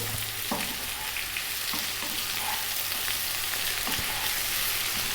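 Steady sizzling of ginger garlic paste dry frying in a pan, a continuous crackle with occasional soft stirring scrapes, close and fairly quiet.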